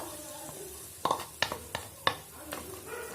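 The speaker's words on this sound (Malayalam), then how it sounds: "ഇതിലേക്ക് ഉടച്ചെടുത്ത മുട്ട ചേർത്ത് കൊടുക്കുക." Beaten egg stirred into hot masala for egg bhurji in a pan, with soft continuous sizzling under a series of sharp spoon scrapes and taps, about six distinct strokes spaced irregularly, fairly quiet and close.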